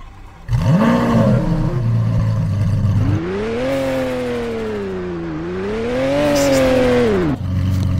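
A fast car in the video game Vehicle Legends roars loudly, its engine revving up and down in long sweeping pitch changes with clear gear shifts.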